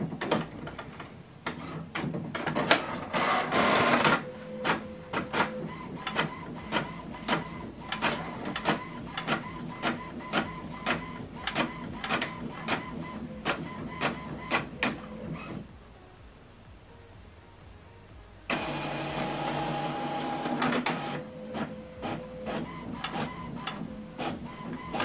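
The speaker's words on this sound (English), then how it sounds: "This document now is printing." HP Envy Inspire 7220e printer printing a color document, with rapid rhythmic mechanical clicks and whirring feed passes, a short pause of quieter hum, then the printing mechanism resuming close up.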